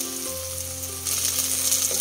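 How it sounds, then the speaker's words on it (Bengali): Garlic sizzles in hot oil in a pan while being cooked for a mutton dish, a continuous crackling fry that grows a little louder and brighter halfway through, with no talking. "রসুনটা ভাজা ভাজা হলে তারপরে আদাটা দেব।"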